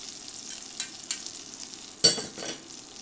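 Food reheating in a pan on an induction burner at 340, with a spoon moving it and butter spooned on top: soft frying hiss under a few sharp scraping stir clicks, one louder clatter partway through.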